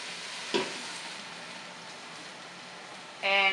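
Tawa chicken cooking on medium heat in a lidded pan, a steady soft sizzle with a brief clatter early and a louder burst of sizzling and clinking at the end.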